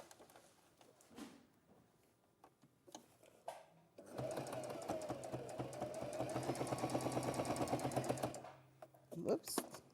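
A sewing machine stitches a seam in a continuous rapid burst of mechanical whirring and ticking lasting about four seconds, close by, with quieter handling sounds before and after.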